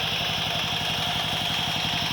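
An old Yanmar engine on a farm tractor, fitted with a 3-inch water pump, idling nearby in a loud, steady, fast-pulsing chug with light clatter.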